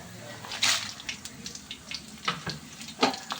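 Fenugreek seeds, cumin, and dried and green chillies fry in hot oil, a crackling sizzle broken by sharp spits and pops and bursts of stirring, with talking mixed in.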